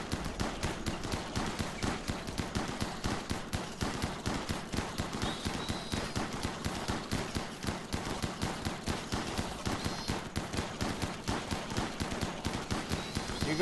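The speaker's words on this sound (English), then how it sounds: "Rapid fire shotgun!" Rapid shotgun fire in the colony-survival game RimWorld, set in an extreme desert map: a steady stream of sharp, evenly spaced shots cracking one after another throughout, loud and continuous with no pauses.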